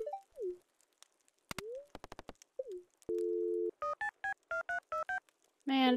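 Phone dialing tones from the game Stardew Valley: a short burst of rapid dial beeps, then a steady held tone and a string of evenly spaced chiming tones, loud and clear with no speech.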